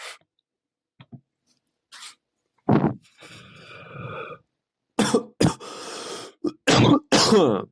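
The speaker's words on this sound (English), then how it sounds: "Coughing into the mic." Harsh coughs and throat clearing close to the microphone, several bursts spread unevenly, with a rough rasping stretch in the middle and rustling handling noises.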